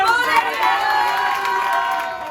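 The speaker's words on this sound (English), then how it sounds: "Round of applause." Crowd at an English café New Year celebration in India cheering and shouting loudly after a song, a dense steady roar of voices with no distinct clapping standing out.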